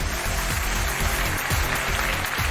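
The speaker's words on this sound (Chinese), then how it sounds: "掌声有请这一对，有请。" A studio audience on a Chinese relationship-mediation TV show claps steadily to welcome a couple onstage, a dense, even wash of applause with rhythmic backing music pulsing underneath.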